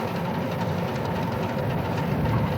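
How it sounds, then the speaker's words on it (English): Diesel locomotive 1700 of the Wellsville Addison and Galeton Railroad rumbling steadily out of the shops, a low, continuous engine drone close by with no talk. "Diesel shop foreman David Bartholomew pulls the 1700 out of the shops"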